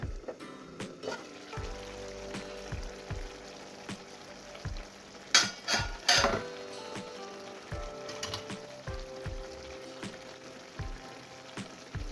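Chopped cabbage and potato cooking in a pan, a soft steady sizzle punctuated by scattered clicks and a few louder clatters of lid or utensil.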